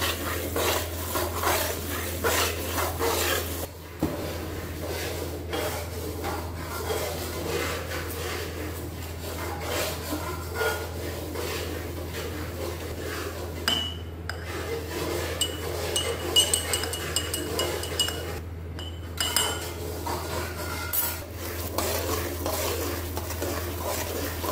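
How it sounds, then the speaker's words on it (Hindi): A metal spoon scrapes and stirs semolina roasting in a pan for suji halwa, a continuous close rubbing and clinking that keeps up steadily with no talk over it. "ये गोल्डन ब्राउन उठने तक मैं भूनती रहूंगी। इसको चमचा लाता रहना है"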